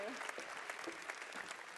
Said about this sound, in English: A big hand for her.